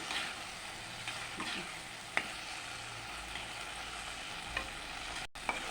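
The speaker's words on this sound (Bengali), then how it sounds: "আলুর সাথে আবারও কিছুক্ষণ নাড়াচাড়া করে নেব মশলাটা কষে নিলে আলুর সাথে ভালো লাগে খেতে" Potatoes stirred into spice masala for a fish curry, frying in a pan with a soft steady sizzle and occasional scrapes and clinks of a spoon, alone and fairly quiet.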